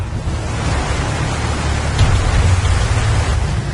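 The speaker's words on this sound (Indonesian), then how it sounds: "Hujan deras yang mengguyur hampir seluruh wilayah kota Pekanbaru Riau membuat kepekatan asap berkurang." Heavy rain pours down over Pekanbaru, Riau, a loud, dense, unbroken hiss of downpour with no voices.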